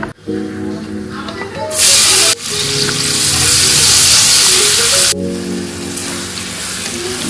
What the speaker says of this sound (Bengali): আবার পেঁয়াজ রসুনটা কিছুটা ভেজে আর বেটেও দিয়ে দিলাম